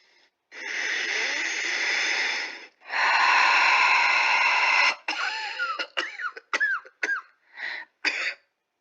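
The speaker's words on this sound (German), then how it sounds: "Tief einatmen und ausatmen." A patient takes two long, deep breaths during a medical examination, heavy and wheezy with a hissing rasp, followed by a series of short coughs and throat-clearing sounds.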